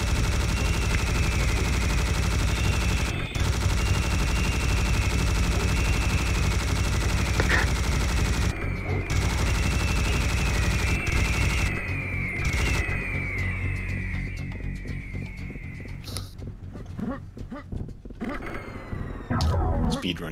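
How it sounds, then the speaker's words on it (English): Rapid automatic gunfire from a Tommy gun in the shooter game Serious Sam: The First Encounter, loud and sustained bursts over game music and effects, with a voice talking over it. "Why are you using the Tommy gun and not a minigun?"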